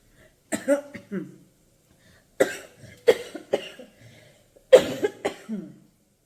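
Several harsh coughs come in short bursts separated by quiet pauses, close and loud, with no talking.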